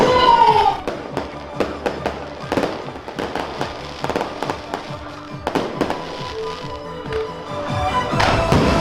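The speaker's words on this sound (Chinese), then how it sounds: "非常精彩的致敬烟火上菜秀" Fireworks display at an open-air countryside wedding banquet, a dense run of sharp firecracker bangs and crackling bursts in irregular clusters, loud and close, with celebratory background sound between the pops.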